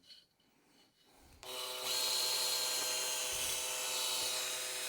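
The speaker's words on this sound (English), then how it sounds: "I'm going to run the hone up and down it and see if there's any score marks" A cheap cylinder hone runs in a BSA engine bore, starting with faint scraping, then rising after about a second and a half into a loud, steady, whining grind that holds to the end.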